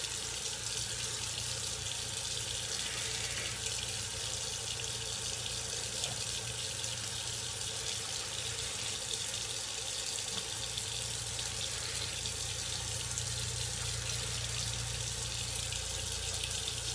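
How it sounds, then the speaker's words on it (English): Tap water runs steadily into a sink for a cold-water face rinse, a faint, continuous hiss and splash lasting the whole stretch without any voices. "I'll do a cold water rinse and then dry off."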